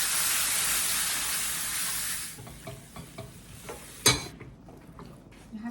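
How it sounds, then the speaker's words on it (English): Milk mixture poured into coarse semolina for wedding soji, with almonds and cream, as it is quickly stirred: a loud steady hiss and sizzle at first, then quieter scraping stirring taps with one sharp clink. "So now we're adding the milk mixture."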